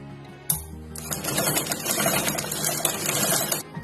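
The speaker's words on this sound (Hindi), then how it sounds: "इस पे हम सिलाई कर लेंगे।" A sewing machine runs steadily at close range for about three seconds, stitching the side seam of a small fabric party bag, with a sharp click at the start and a quick stop, no talking.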